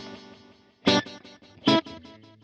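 Electric guitar through the chorus echo program of a Zoom Studio 1204 rack effects unit: two loud strummed chords, each followed by softer repeating echoes, with a quieter shimmering tail between them.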